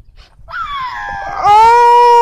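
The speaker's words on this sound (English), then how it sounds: "Oh, doggies!" Dogs howling close by: one rising, wavering howl opens, and a second, louder, sustained tonal howl joins and carries to the end, with no talking.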